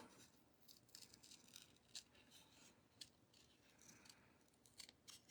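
Hinge scissors snipping paper at a craft table: a quiet series of short, irregular cutting clicks and rustles, close and faint, with no speech.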